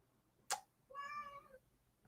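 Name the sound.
cat meowing to go out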